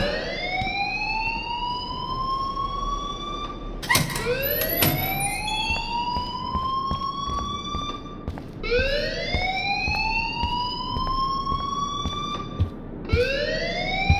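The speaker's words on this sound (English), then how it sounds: "please turn off that alarm since that's your job" Alarm ringing in the video game Life is Strange: a loud electronic siren with rising sweeps repeating about every four seconds, punctuated by sharp clicks and knocks, with no speech.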